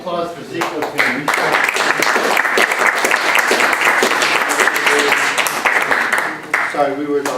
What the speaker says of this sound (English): Another round of applause for Zico's family.